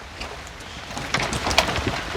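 Rain falls outdoors as a steady broadband hiss, with scattered brighter drops and patters rising toward the end. No voices are present.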